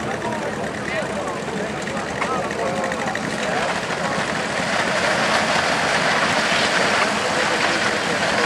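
A John Deere 420 crawler tractor weighing 4,900 pounds pulls a sled at an outdoor event in Apache Junction, Arizona, its engine a steady, loud, continuous roar with voices and crowd noise mixed in throughout.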